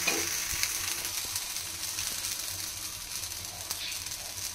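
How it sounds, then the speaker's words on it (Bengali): Roti batter sizzles and crackles steadily in a nonstick pan without oil, a continuous close frying hiss with faint clicks. "ননস্টিকের কড়ায় কোনো তেল ছাড়াই এই রুটিগুলো হয়ে যায়"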